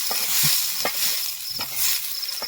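Bombil, Bombay duck fish, frying in oil in a kadhai, a steady close sizzle and hiss with a few soft clinks of a stirring utensil.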